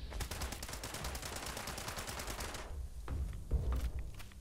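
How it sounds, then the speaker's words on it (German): Rapid gunfire in the video game Fallout 76: a dense run of repeated shots for about two and a half seconds, then a few scattered heavier impacts and thuds, all loud with no talk. "das waren jetzt mehrere Schüsse kritisch aufs Auge"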